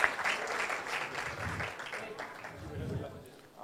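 An audience applauds award recipients receiving stethoscopes and white coats at a ceremony, with steady scattered clapping from a hall and a voice talking over it.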